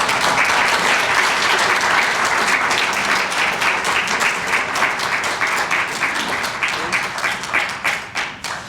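An audience applauds to welcome a speaker at a talk about the true story of Hotel Rwanda. The clapping is steady and full throughout, then thins and fades toward the end.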